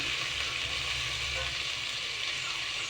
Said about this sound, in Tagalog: Lagyan natin ng suka.